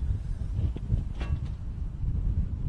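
Strong wind buffets an open microphone in the commentary position at a VFLW women's Australian rules football match, GWS Giants against Geelong, a steady low rumbling roar that lasts throughout without talk.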